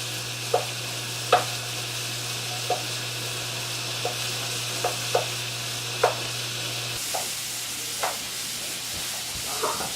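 Sweet and sour meatballs cook in a pan with a steady low sizzle, punctuated by a dozen or so soft scraping stirs of a utensil at irregular intervals, close and without any talking.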